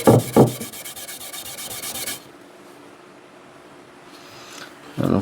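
A maroon Scotch-Brite pad scrubs the steel head of a Plumb double bit axe in a couple of quick, close rasping strokes, followed by a quiet stretch and a final brief scrub.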